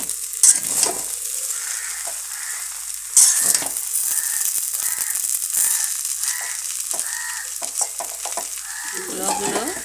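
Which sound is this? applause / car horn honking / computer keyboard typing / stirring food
stirring food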